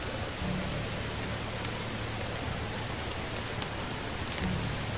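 Steady rain falls in the medieval village life game Medieval Dynasty, a constant dense hiss of rainfall with faint drops and a distant low rumble, no talk.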